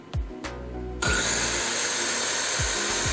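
A Ryu RCS 185-2 circular saw spins up without load, its motor whining steadily and loud after a few short clicks at the start.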